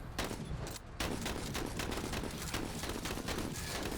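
Gunfire in the tactical game Menace rattles in a dense, continuous barrage of rapid shots, loud and unbroken, with a slightly quieter opening second before the full volley.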